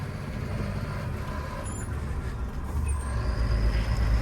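A Benz truck's engine rumbles steadily as it eases through a tight turn on a road near Shirala, the low drone close and continuous and swelling slightly toward the end.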